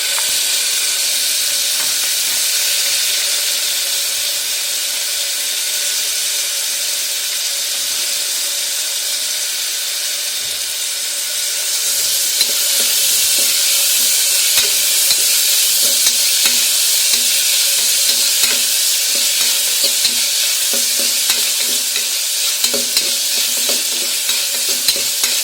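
Chopped onions fry and get stirred in a pan for a potato and tomato curry, a dense steady sizzle that grows louder about halfway through, with repeated scraping strokes of the spoon over it.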